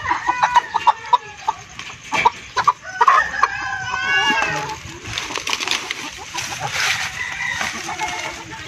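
Chickens cluck and squawk steadily nearby at feeding time, with a rooster crowing partway through over a busy farmyard background.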